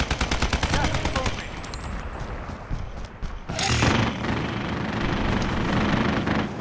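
Rapid automatic gunfire in the Warzone video game, a fast rattling burst followed by a louder blast and a dense roar of shooting, with voices talking over it.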